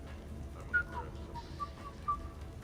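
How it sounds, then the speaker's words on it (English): A character whistles a short, wandering tune in the Mass Effect video game, faint thin notes in a few brief phrases over a low background murmur. "Are you whistling?"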